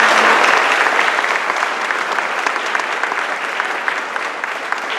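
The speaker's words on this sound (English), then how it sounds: "how about a big round of applause for all you guys" A large audience at a guide dog class graduation breaks into loud, sustained applause, a dense, even roar of clapping that fades slightly over five seconds.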